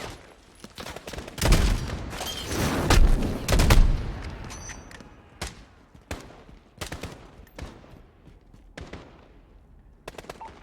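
Gunfire in Call of Duty Modern Warfare, a loud heavy barrage of shots and booms early on, then scattered sharp single shots fading out, with no talk over it.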